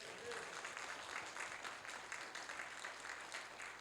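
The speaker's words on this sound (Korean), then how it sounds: "여러분 격려의 박수 한번 해주십시오." A church congregation at an autumn revival meeting claps in sustained applause, a dense, even patter of many hands filling the room for several seconds with no speech over it.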